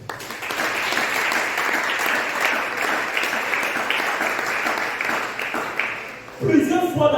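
A church congregation applauds, the dense steady clapping filling the room at close range and staying loud for several seconds before tapering into a voice speaking.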